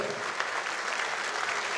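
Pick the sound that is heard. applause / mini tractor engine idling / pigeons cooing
applause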